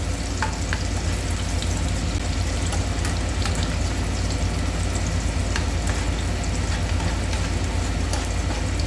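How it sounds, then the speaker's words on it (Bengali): Chopped capsicum, green chili, carrot and beans sizzle and crackle steadily in a hot frying pan as they are stirred, with a loud, close, continuous hiss and occasional scraping ticks. "একটুখানি বিনস এটাকে একটু ভালো করে নাড়াচাড়া করে নেবো"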